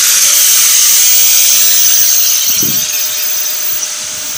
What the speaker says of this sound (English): I'm going to draw it out on the metal and then I'm going to cut it out with the cutoff wheel